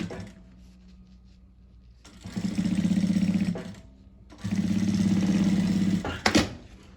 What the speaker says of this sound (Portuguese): passa uma costurinha de um pezinho de máquina